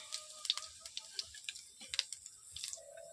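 Panch phoron spices dropped into hot oil for a vegetarian papaya and potato curry, crackling and popping in quick irregular bursts over a faint sizzle, fairly quiet, no talking.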